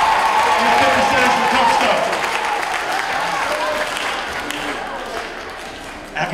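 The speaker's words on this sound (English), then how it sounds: "big round of applause for Tough Stuff, all the equipment in the fitness centers for Tough Stuff" Applause from an audience at a fitness center ribbon cutting for the Tough Stuff fitness equipment company, dense clapping that gradually fades, heard under a voice speaking over it.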